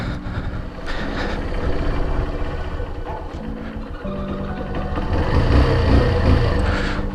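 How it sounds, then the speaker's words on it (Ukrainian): A warmed-up motorcycle engine idles close by on a cool autumn day, a steady, loud low chugging drone that holds throughout and swells slightly toward the end, with no one speaking. "Так, мотоцикл вже прогрівся."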